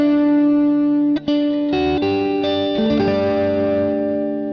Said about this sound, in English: this overdrive is called AC30SC.